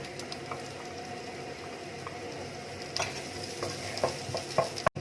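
Chopped onion sautéing in a pan for mung bean stew, a continuous moderate sizzle with scraping stirs and a few clinks of utensil against metal.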